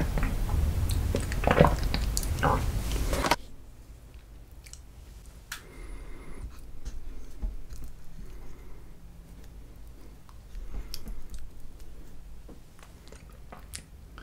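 Eating chocolate ice cream and apple cake with Nutella, a loud rustle at the start, then quiet close-up chewing, soft wet squishes and occasional clicks.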